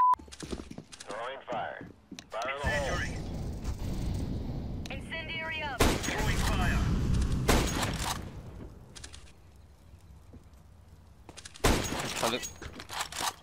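Gunfire in a video game: several sharp, loud bursts stand out among hoof-like clip-clops and other game noise, with a quieter steady rumble between shots.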